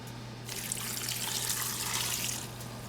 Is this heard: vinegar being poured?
yes